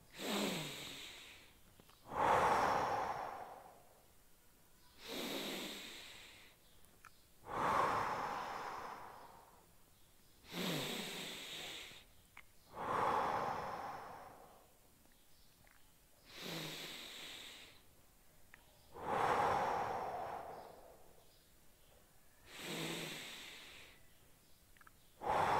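Slow, deep breaths repeat during a stretching exercise, each a drawn-out inhale followed by an audible exhale, about eight cycles in an even rhythm, close and fairly quiet with no talking.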